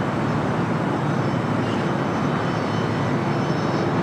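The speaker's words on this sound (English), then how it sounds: "This flight heading to Tokyo Haneda, flight 39 and a 787-10 Dreamliner." A Boeing 787-10 Dreamliner departing Los Angeles for Tokyo Haneda, its engines a loud, dense, steady roar heard alone and fairly close.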